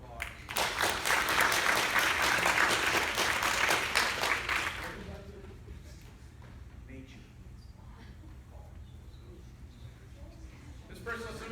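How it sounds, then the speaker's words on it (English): Loud, dense applause from a high school class audience at a hypnosis show, lasting about five seconds before fading into quieter room noise and faint voices. "Give him a big round of applause."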